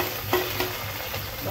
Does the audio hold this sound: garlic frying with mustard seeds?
yes